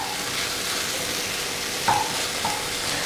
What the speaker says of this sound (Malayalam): ഹൈ ഫ്ലെയിമിൽ ഇട്ടിട്ട് നന്നായിട്ട് മുട്ടയും ഈ മസാല എല്ലാം കൂടെ നന്നായിട്ട് മിക്സ് ചെയ്ത് കൊടുക്കുക.